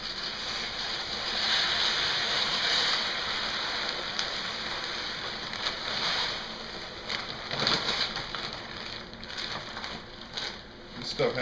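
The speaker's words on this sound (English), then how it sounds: "Then I'm going to pour the rest of the rice in." Dry rice poured from a container into a plastic-bag-lined storage bucket, a continuous hissing, rattling stream of grains that shifts and trails off into scattered bursts toward the end.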